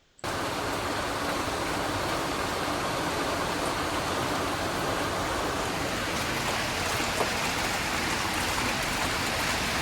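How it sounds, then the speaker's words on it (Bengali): Light rain drifting in through open windows of a room during stormy weather, a steady, even hiss of falling water that stays constant and fairly close throughout, with no talking. "ঘরের জানলাগুলো খুলে দিয়েছি হালকা একটু বৃষ্টির ছাট আসছিল"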